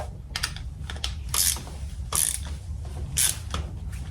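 A torque wrench ratchets as it tightens a Loctite-treated foot peg bolt on a salvaged, crashed Kawasaki Ninja ZX-6R. Several short bursts of sharp clicking come close up, with brief pauses between them and no voices.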